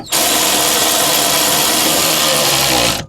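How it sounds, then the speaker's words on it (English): A power tool spins steadily for about three seconds while tightening strut bar bolts on a Dodge, a loud, continuous whirring buzz close by that cuts off abruptly. "Let's retighten the bolts."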